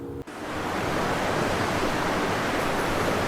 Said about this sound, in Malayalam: ഇവിടെ ആദ്യം കാണുന്നത് റോഡിൽ നിന്നുള്ള വെള്ളച്ചാട്ടത്തിൻ്റെ മനോഹരമായ കാഴ്ചകളാണ്